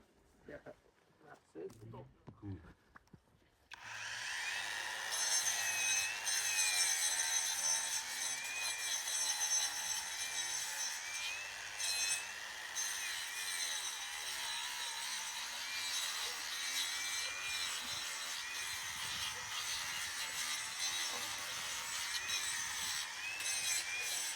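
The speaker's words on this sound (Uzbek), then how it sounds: "endi bolgarkada tekislab nima qilamizda?" An angle grinder smooths a cow's hoof during treatment for hoof rot, a continuous loud, high whining grind starting after a few seconds of handling noise and running steadily to the end, with people talking over it.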